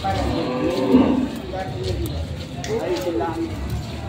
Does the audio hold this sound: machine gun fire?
no